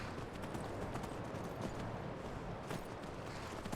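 Horse hooves clopping at a stable in the video game Skyrim, a steady run of soft, muffled footfalls over a dense background bed, moderately close and continuous, with no talking.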